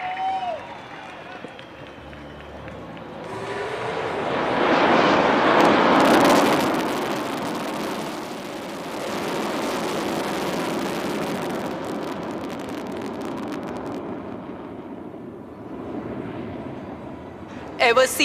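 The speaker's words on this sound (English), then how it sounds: "ஸ்லோவா, பொறுமையா, அழகா, மெதுவா, உங்கள் முன்னால் Su-30 MKI." Sukhoi Su-30 MKI fighter jet at the Indian Air Force air show over Marina Beach, Chennai, a broad roaring jet rumble that swells loud mid-pass then lingers as a steady distant roar, with crowd voices and commentary underneath.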